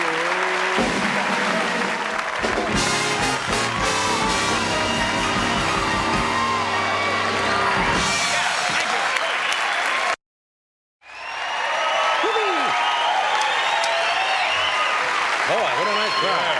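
Late-night talk show studio audience cheering and applauding loudly, dense clapping mixed with whoops and shouts, broken by a sudden brief dropout before the roaring applause resumes at full strength.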